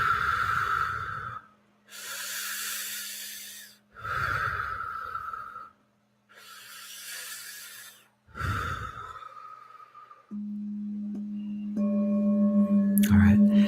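Slow, deep human breathing in about four long cycles, each drawn-in and released breath rushing loud and near between quiet pauses, followed by a sustained soft musical tone that swells at the end.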